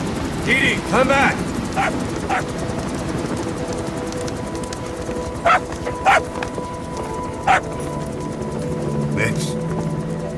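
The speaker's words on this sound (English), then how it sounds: "Here's the dog you brought back." Dog barks in Metal Gear Solid V: The Phantom Pain, a few sharp yaps early on and a handful of short barks later, heard over steady game ambience and background hum.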